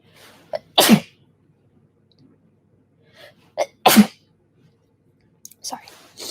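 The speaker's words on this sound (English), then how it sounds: "I'm about to sneeze" Two sharp, loud sneezes about three seconds apart, each preceded by a short inhaling gasp, with a brief breathy sound at the end.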